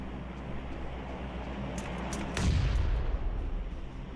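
A grenade detonates in PUBG Mobile, a sudden heavy low boom midway through that rumbles on over steady background noise from the game.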